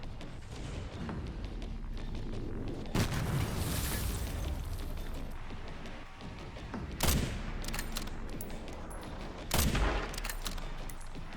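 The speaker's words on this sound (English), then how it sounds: "I guess I took him out with the sniper." Gunfire and explosions in the video game Resident Evil Requiem, including a sniper rifle: loud sharp bursts at about 3, 7 and 9.5 seconds over a constant rumbling action background, with no speech.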